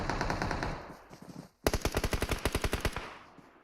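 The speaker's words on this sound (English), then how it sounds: "There's the shots fired, and one's knocked, two's knocked." Automatic gunfire in the PUBG Mobile video game during an esports scrim match, one sustained burst followed by a short gap and then a loud, rapid string of evenly spaced shots, close and with no voices.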